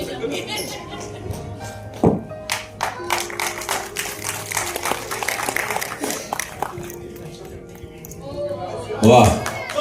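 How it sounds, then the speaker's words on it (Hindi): Loud applause from a crowd as guests step onto the stage at the Golden Asia Awards in Lucknow, steady clapping running throughout with a voice speaking over it. "जोरदार तालियां आपके लिए भी"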